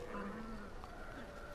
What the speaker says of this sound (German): Ah, das sind Ziegen.